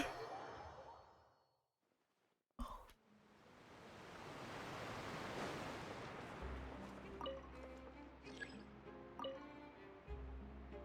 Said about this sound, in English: this waterfall reminds you of Niagara Falls.